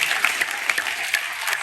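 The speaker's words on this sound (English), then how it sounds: "Can we clap it up for that?" A crowd at an anime popup exhibit talk claps together in a short, steady burst, with dense overlapping hand claps close and fairly loud throughout.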